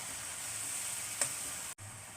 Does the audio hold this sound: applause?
no